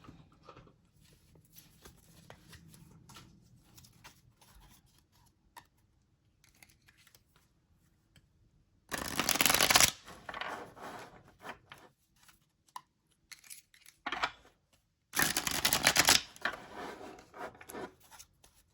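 An Afro Avatar Tarot card deck is shuffled in a quiet room, giving two short, crisp riffling bursts after a long near-silent stretch.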